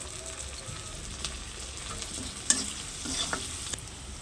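Spice paste with salt and turmeric frying in a pan, a steady soft sizzle with occasional light scrapes and taps of a spatula, fairly quiet and close, no voices.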